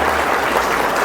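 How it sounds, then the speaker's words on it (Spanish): A church congregation applauds during a sermon, with dense steady clapping from many hands throughout a short burst. "Dale un aplauso al Señor, Él se lo merece."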